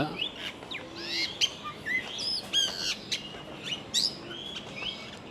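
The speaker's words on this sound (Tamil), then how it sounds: "நிறைய விதமான புறாக்கள் வகைகள் இருக்குது." A dense chorus of chirps, whistles and calls from many birds, pigeons among them, fills a forest aviary at Bird Paradise in Singapore, continuous and lively with no talking.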